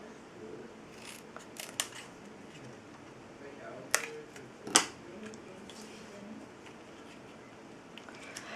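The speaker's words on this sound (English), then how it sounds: "So I'm just going to cut that out." Scissors cutting out a paper banner for a handmade butterfly greeting card, several sharp crisp snips close by, grouped in short bursts with quiet gaps between.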